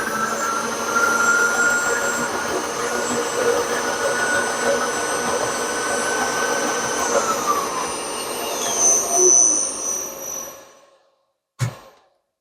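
A machine making the last flat facing cut across one side of an engine cylinder, a steady loud whirring grind that drops away near the end, followed by a single short clunk.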